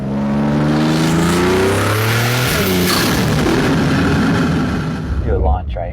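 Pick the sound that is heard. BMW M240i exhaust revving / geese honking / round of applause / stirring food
BMW M240i exhaust revving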